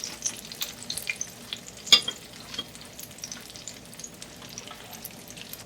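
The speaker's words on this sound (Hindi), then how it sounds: "बाकी सेकंड बैच जो है वो हमारे फ्राई हो रहे हैं" A batch of breaded chicken and potato kofta deep-fries in hot oil, giving a soft steady bubbling sizzle with scattered crackles and pops, fairly close and moderate in level.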